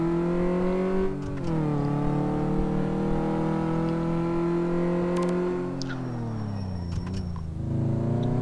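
An SUV's engine in the Car Mechanic Simulator 2015 video game drones with a clear, rising tone as it accelerates, dips briefly as it shifts, then climbs again, staying steady and moderately loud throughout.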